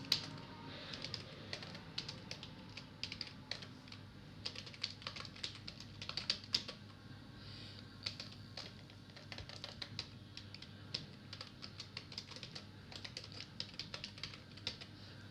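Rapid, uneven keystrokes clatter on a computer keyboard while text goes into an Excel spreadsheet, a steady close patter of light clicks with short pauses and no voices.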